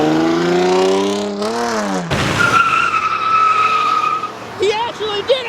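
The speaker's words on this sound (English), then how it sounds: "He actually did a burnout!" At a Houston car meet, a car does a burnout: a loud engine revs and rises in pitch, then tires screech and skid. Excited voices shout close by over the noise.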